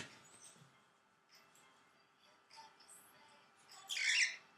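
A pet bird gives a few faint, scattered chirps and squeaks close by, ending in one sharper, louder squawk.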